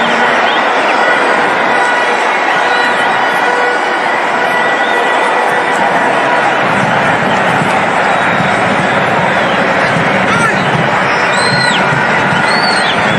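Loud, dense crowd roar filling a football stadium during an Orlando Pirates versus Magesi match, a steady wash of cheering and whistles that swells slightly partway through, with a commentator talking over it.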